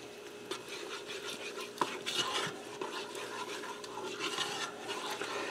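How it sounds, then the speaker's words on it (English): Garlic caper cream sauce is stirred in a pressure cooker pot, producing a continuous soft scraping and swishing of the spoon against the pot with occasional small clinks and no speech. "Give that a stir."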